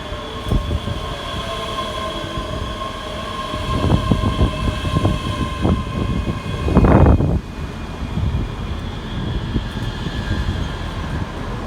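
A ScotRail class 385 electric train pulls into Haymarket station in Edinburgh, loud and close, with a steady rumble, rhythmic clacks as the wheels cross rail joints, and a brief squeal partway through.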